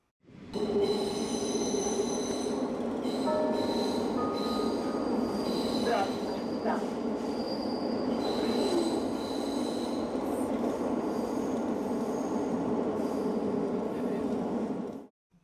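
A train rolls along the rails with a continuous loud rumble and sustained metallic wheel squeal, several high screeching tones and occasional clicks of the track, steady for the whole stretch before cutting off.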